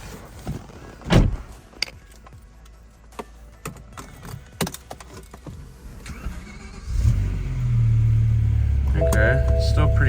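A BMW M6 V10 fitted with a new aftermarket exhaust: rustling and clicks, a car door, then the engine starts and settles into a loud, steady idle with a slight throaty rise, close by.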